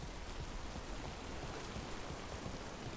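Steady rain falls in Dragon Age: The Veilguard, a dense, even hiss of drops on surfaces that holds at a constant level throughout, with no voices over it.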